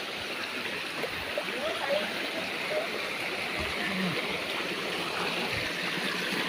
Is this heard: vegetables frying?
no